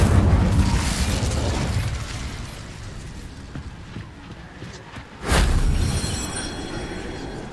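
The Incendio fire spell cast in the video game Hogwarts Legacy: a roaring burst of fire fading into crackling rumble, then a second sudden loud whoosh of flame that stays strong to the end.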